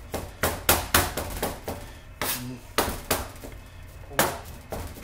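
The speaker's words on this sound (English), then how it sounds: "A nice small chop on it." A knife chops cooked hog's head meat on a cutting board in a kitchen, giving a series of sharp, close knocks in an uneven rhythm, about a dozen strikes with short gaps, and no voices.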